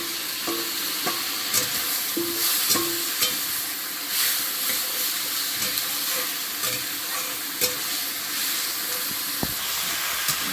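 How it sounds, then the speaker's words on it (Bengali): Elephant foot yam sautés in a pan with onion, garlic and green chillies, a steady loud sizzle broken by frequent scraping clicks and knocks from stirring. "ওলটাও দারুণ কষানো হচ্ছে"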